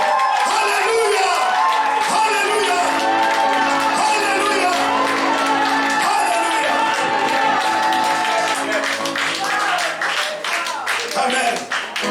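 A crowd shouting and cheering with claps and whoops over loud music, sustained and energetic throughout.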